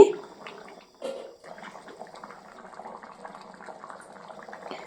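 Tuna fish curry simmers in a covered pot, giving a steady, low bubbling burble that runs throughout at moderate loudness, with a brief sharper lid or spoon knock near the start and a louder bump around one second.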